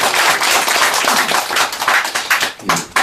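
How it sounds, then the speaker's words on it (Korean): A church congregation at a prayer-house opening service on Dobongsan applauds, a crowd of hands clapping loudly and irregularly for about three seconds, thinning out toward the end. "우리 박수 한번 할까요?"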